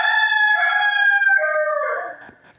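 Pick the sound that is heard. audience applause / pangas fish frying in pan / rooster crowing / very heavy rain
rooster crowing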